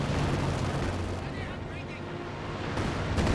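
Artillery barrage in Company of Heroes 2: heavy booming explosions rumble loud at the start and again at the end, with a quieter stretch of lingering rumble between.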